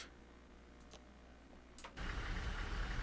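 A coach bus engine idles in Fernbus Simulator with a steady low hum and a few faint ticks, then rises into a louder, fuller rumble for the last second.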